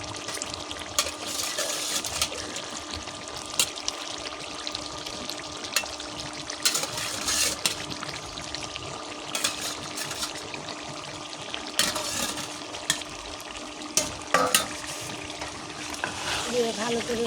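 Fried potatoes stirred into mutton curry simmering in plenty of rendered fat, a steady close sizzle with scraping spoon strokes and occasional clinks running throughout.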